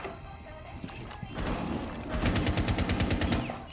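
Rapid automatic gunfire in Rainbow Six Siege aimed at a radio, a dense burst of shots that swells and rattles on for over a second, with game sounds and faint talk beforehand.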